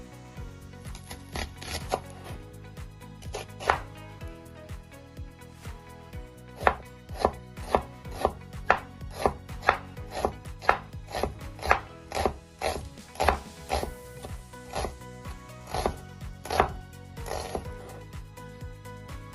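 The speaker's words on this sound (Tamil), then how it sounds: "அடுத்தது வெங்காயம் வெட்டுறேன்" Onions are chopped with a knife on a board, giving a long run of quick, crisp, rhythmic chops, close and loud, broken by short pauses.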